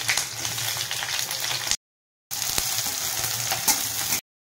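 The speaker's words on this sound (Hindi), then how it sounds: "आमर पियाज पकाउची" Onions frying in hot oil in a kadai with bay leaf, a steady broadband sizzle close up, cut by a brief silent gap midway.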